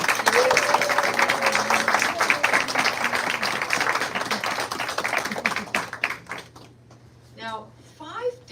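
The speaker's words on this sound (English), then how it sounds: "Let's give all the childcare early educators a big round of applause" Applause from an audience honouring childcare early educators at a Key to the City presentation, dense sustained clapping that thins out and gives way to speech near the end.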